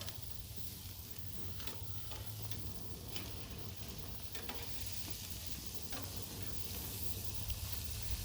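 Food sizzling on a grill makes a steady, dense frying hiss throughout, with faint scattered pops and ticks and no talk.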